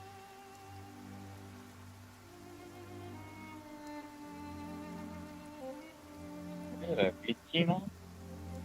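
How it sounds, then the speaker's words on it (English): Rain falls steadily in the video game Genshin Impact, a soft continuous patter under low ambient tones and game music, with a person talking briefly near the end. "The rain won't slow me down."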